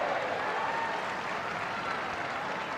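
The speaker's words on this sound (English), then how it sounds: "With an ironic cheer from the Manchester United fans." Manchester United fans give an ironic cheer at a women's League Cup football match against Tottenham Hotspur, a steady wash of crowd applause and cheering from the stands, sustained and fairly distant with no clear single voices.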